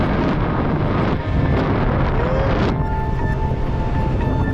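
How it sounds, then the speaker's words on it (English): Strong beach wind buffets the microphone with loud, continuous low rumbling and gusty roar, easing slightly near the end. "That's a fair bit of wind"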